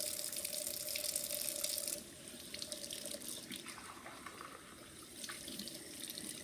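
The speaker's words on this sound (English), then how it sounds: "I'm going to give it a good rinse." A kitchen tap runs to rinse fragile crystal glassware, with a steady close hiss of water that softens after the first two seconds as the flow changes and splashes over the glass.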